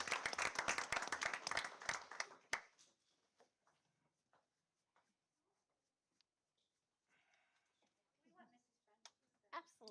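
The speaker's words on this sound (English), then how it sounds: "Let's give them a round of applause again." Applause at a school board meeting honoring students, a burst of clapping for about two and a half seconds that stops abruptly, followed by quiet room noise and scattered soft talk.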